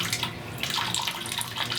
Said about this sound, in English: So I'm gonna add some more water.